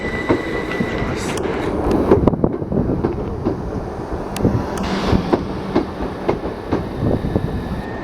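Southern Class 377 electric train, unit 377424, runs through Hastings with a steady rumble, rhythmic clicks of wheels on rail joints and occasional sharp rattles, heard from aboard.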